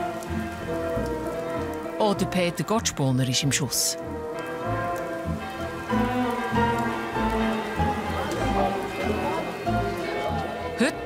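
Steady rain patters on a surface while someone speaks over it, with music or other sounds faintly mixed in, in the Swiss mountain village of Visperterminen.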